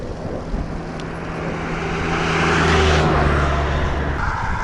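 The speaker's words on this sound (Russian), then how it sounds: "Интересная машина, она мне уже второй раз так обгоняет и встает." A car overtaking on the road, a broad rushing engine and tyre roar that swells past over a few seconds, close and loud, with steady road noise beneath.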